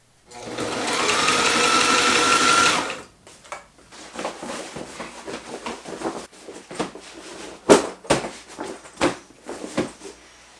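A sewing machine stitches bicycle inner tube binding onto the seams of a homemade workout sandbag, running in one loud continuous whir for about three seconds, then giving way to quieter handling knocks and rustles.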